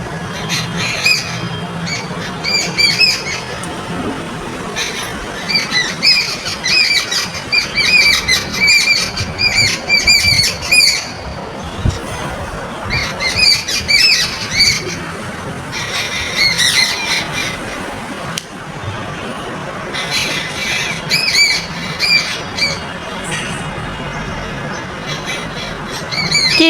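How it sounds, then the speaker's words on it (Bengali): Birds on a water tank calling in repeated bursts of shrill squawks and squeals, loud and close, with pauses between the flurries over a faint background. "কি শুনতে পারছেন পাখির ডাক?"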